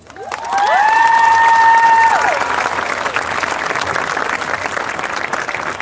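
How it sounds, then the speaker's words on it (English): A graduation audience applauds and cheers, with a loud, dense burst of clapping joined by sustained whistles or shouts early on, then a steady wash of applause continuing at a slightly lower level. "let's cheer for our new beginning"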